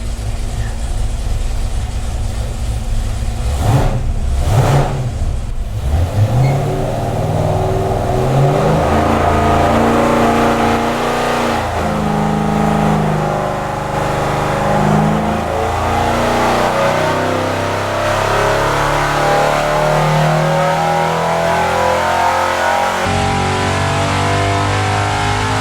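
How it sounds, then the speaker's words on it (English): A car engine is revved repeatedly to warm it up, its pitch climbing and falling in close, loud surges that continue for the whole stretch with no talking. "this is the way to warm it up, is to rev it up"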